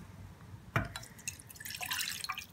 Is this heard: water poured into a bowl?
yes